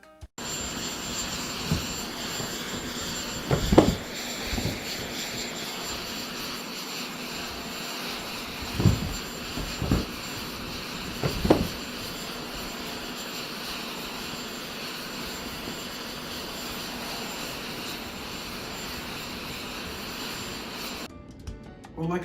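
Steady airplane engine drone by the boarding stairs to an aircraft, a broad continuous roar lasting throughout, with a few brief louder thumps and clunks early on and a cut near the end.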